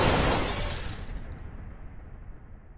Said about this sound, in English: You crash your F1.